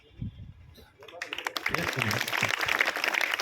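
Clapping swells up from a school audience at a girls' school supplies distribution event, building from quiet talk into sustained, fairly dense applause.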